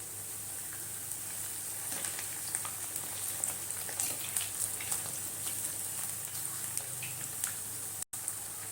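Urad dal vadai frying in oil give off a steady, soft sizzle with faint crackles and pops throughout, heard alone without talk.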